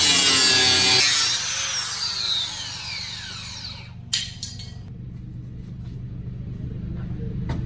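A power tool cuts into metal where the condenser bolts down on a B18 Civic during a top mount turbo install, a loud harsh grinding whine that fades, then a few sharp clanks and a quiet hum.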